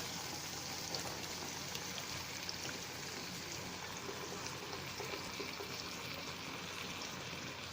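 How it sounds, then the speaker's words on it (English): Coconut milk pours steadily into a vegan casserole of leftover vegetables, a soft continuous liquid stream that stays faint and even throughout, with no voices. "I'm gonna add my coconut milk"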